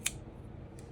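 Scissors trimming the ends of twine on an index card page: two quiet, crisp snips, one at the start and another a moment later, alone in a still room.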